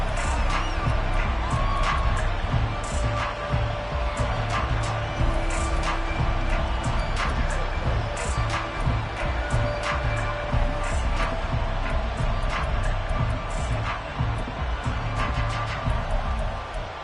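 Stadium crowd in an EA Sports NFL video game roars and cheers steadily throughout, a dense continuous wash of noise with scattered sharper claps and shouts, under broadcast-style commentary.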